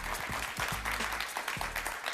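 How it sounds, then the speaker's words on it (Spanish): Applause from a television studio audience following a talk-show interview, steady dense clapping for about two seconds at moderate volume with no voices. "Un aplauso para Ana Mercedes Díaz, por favor"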